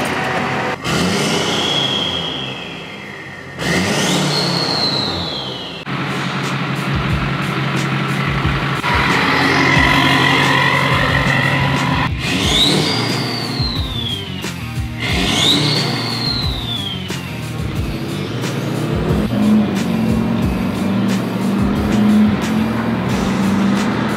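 A Hummer H1 with an upgraded turbocharged Duramax diesel engine starts and runs, its steady loud idle rumbling close by while rising turbo whistles repeatedly spool up and fall away.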